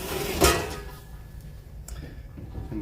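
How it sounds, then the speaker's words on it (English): The door of an Invoq combi oven closes with a single sharp thud early on, followed by a quiet kitchen hum. "And we'll close the door."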